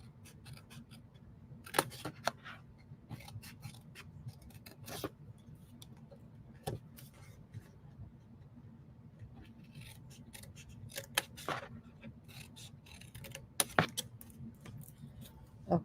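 Scissors snipping cardstock for a Halloween card, quiet scattered cuts in irregular bursts with brief sharp snips over a soft room hum, no talking.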